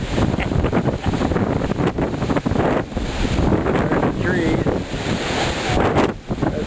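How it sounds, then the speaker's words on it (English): Strong, gusty windstorm winds from the remnants of Hurricane Ike batter the microphone outdoors in Indiana, with a loud, continuous roar and buffeting across the whole stretch and brief dips between gusts. "I'm going to look right into the wind now."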